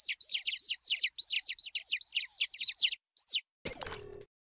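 Baby chicks chirp rapidly in a package in the You Don't Know Jack video game, a dense run of high peeping calls that stops abruptly before a short burst of noisy game sound.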